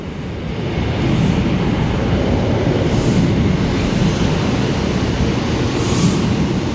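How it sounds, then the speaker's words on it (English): A Northern Class 156 diesel multiple unit pulls into Sunderland station, a steady loud rumble of engine and wheels on rail running throughout, with faint hissing bursts overhead. "now arriving in is a 156 for Northern"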